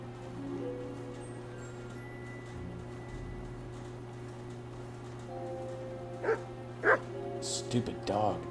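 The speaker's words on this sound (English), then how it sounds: "Stupid dog." A dog barks in the medieval video game Kingdom Come: Deliverance 2, a few sharp yelps near the end over a steady background hum and ambient game sound, fairly close and moderately loud.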